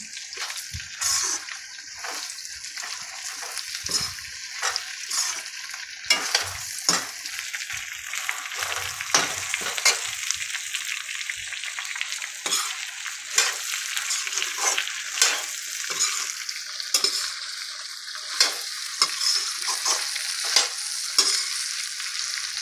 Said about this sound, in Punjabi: ਆਪਾਂ ਇਹਨੂੰ ਚੰਗੀ ਤਰ੍ਹਾਂ ਹਿਲਾ ਲੈਣਾ ਹੈ